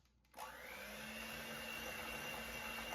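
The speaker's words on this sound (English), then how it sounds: "we're going to mix this on low speed for about 1 minute until everything's creamy and mixed together" Electric hand mixer on low speed creaming butter and sugar, a steady, fairly quiet motor whir that starts abruptly after a brief silence and then runs evenly, with a faint higher whine above the hum.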